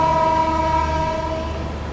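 Express train rolling on the Jaipur–Mumbai line past Bhilwara, a steady rumbling drone with sustained tonal hum, continuous and fairly loud with no voices.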